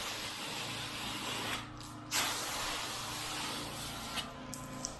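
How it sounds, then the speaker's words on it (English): Continuous broadband hiss of a pressure washer blasting a house wall with dirt and organic growth, close and steady, broken by a couple of short gaps where the spray pauses. "Spray this down a little bit right here."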